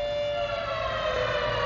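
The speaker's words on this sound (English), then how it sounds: "I'll wait a moment while the siren goes." A town civil defense siren sounds its noon signal, one steady sustained wail held throughout, loud and continuous with no voices over it.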